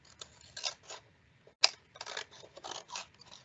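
Scissors cut a paper flower shape down the middle, giving several short crisp snips with one sharper click, close and quiet.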